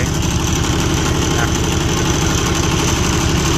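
An old Japanese three-cylinder diesel welder generator runs loud and close, its steady, lumpy idle throbbing without pause.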